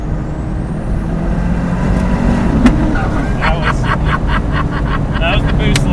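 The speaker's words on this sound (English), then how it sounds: "That was the boost limiter you just hit" A triple-turbo McLaren engine runs up against its boost limiter from inside the car, a loud steady drone with a series of quick fluttering hiss bursts near the end.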